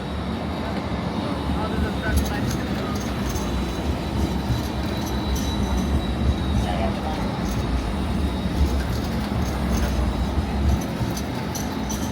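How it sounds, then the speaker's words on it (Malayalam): A train pulls into a busy Sydney station platform, a steady low rumble and rolling hiss of rail noise that continues for the whole stretch, with faint platform bustle and distant announcements under it. "The train to Telford is going to enter platform number 2."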